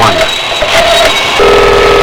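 A telephone dials 911 in a steady tone sequence, loud and close, with short tones giving way to a sustained higher tone.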